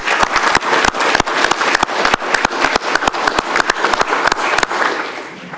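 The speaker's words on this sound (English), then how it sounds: "Let's give them a round of applause" A crowd applauds steadily at a county commissioners meeting, many hands clapping in a dense, even patter that holds for several seconds before easing off slightly at the end.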